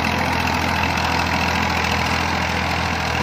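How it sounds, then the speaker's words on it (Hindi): A 1992 Massey Ferguson MF 240 tractor pulling an 11-tine plough runs at a steady drone, its engine noise dense and continuous without speech. "बाकी ट्रैक्टर दी आवाज़ बिल्कुल ठीक है।"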